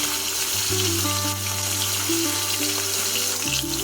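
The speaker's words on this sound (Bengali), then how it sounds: "2 থেকে 3 মিনিট ধরে মাছের পিসগুলোকে ভাজা করে দেবো।" Pieces of katla fish frying in hot oil give a close, continuous, even sizzle for a few seconds, with a steady hum underneath and no talking.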